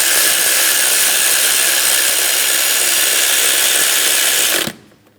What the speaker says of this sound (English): Now we can go ahead and tighten this hardware.